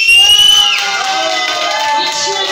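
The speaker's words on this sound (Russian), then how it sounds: "Аплодисменты." Audience applause at a birthday party show in a cafe, a steady wash of clapping and crowd noise lasting throughout, fairly loud and close, with some voices mixed in.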